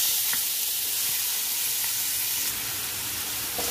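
Chopped onion and sliced green chilies fry in a pan with a loud, bright, continuous sizzle and hiss, close and unbroken, with no speech.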